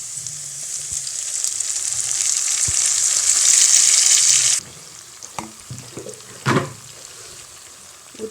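Sizzling onions in a pan on low heat: a bright steady hiss that cuts off abruptly when the ground coriander paste is poured in. Softer bubbling and a few stirring clunks follow.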